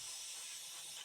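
An airbrush sprays water through to flush out leftover paint, a steady close hiss running unbroken through the whole moment.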